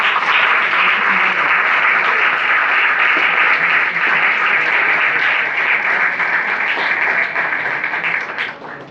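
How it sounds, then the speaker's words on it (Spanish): A church congregation applauding during a Sunday sermon: loud, sustained crowd clapping filling the room, holding steady for about eight seconds before tapering off at the end. "Un aplauso fuerte a Cristo."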